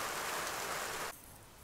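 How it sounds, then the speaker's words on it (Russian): Steady broadband rain hiss falls outdoors, loud and continuous, then drops abruptly to a quieter, softer patter after about a second; nobody speaks. "пошел дождь"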